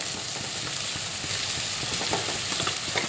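Poha with potatoes sizzling and frying in a pan while being stirred, a steady close hiss with scraping and stirring clatter running throughout, no voices.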